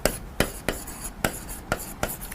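A pen writes on paper in quick, evenly spaced strokes, about eight sharp scratchy taps close up, with no voices.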